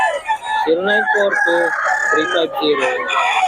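A rooster crows loudly and close, a long harmonic call rising and falling, with clucking chickens around it.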